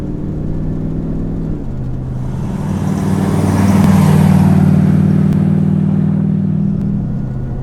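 A car engine with a newly installed EFI fuel injection system idles steadily and loudly up close, its rumble swelling briefly as the revs rise and settle, with no talking.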